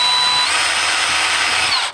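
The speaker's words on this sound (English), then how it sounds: "drilling a hole every little while" A power drill whirs steadily as it bores through rotten latex into the foam of a zombie snail Halloween prop, one continuous loud run with a slight pitch shift near the end.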